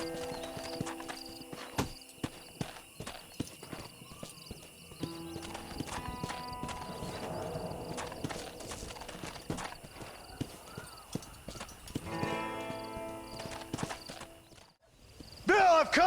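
Horse hooves clip-clop steadily in the Red Dead Redemption video game, joined by occasional whinnies, game music and ambient sounds. A voice is heard at times.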